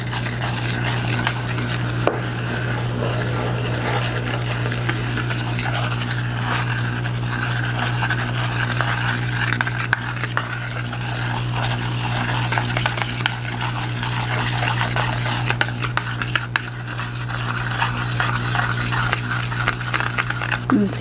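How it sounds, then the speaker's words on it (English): A tool handle stirs a thin, liquidy hair toner mixture in a bowl, giving soft, steady scraping and swishing that runs continuously under a low background hum. "I usually just take the non-brush end and I'm just going to stir it up."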